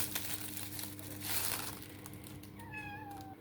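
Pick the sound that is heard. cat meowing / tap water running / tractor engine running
cat meowing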